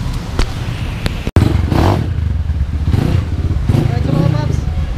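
A GPX Rato Esquire 250 motorcycle fitted with a Keihin 28mm carburetor runs with a steady, rough engine drone and some clattering, broken by one abrupt sharp cut early on, with a voice talking over it.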